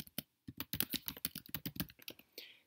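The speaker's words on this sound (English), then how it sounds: "And I'm going to type in some information." Keys on a computer keyboard clatter in a quick, close run of distinct clicks with short pauses, entering information while setting up self-signed certificates, alone without talk.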